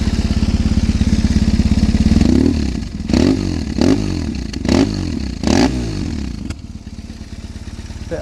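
A 2001 BMW R1150 GS boxer-twin motorcycle built as a custom scrambler idles loudly and close, then is blipped four or five times in quick revs that rise and fall before it settles back to a lumpy idle.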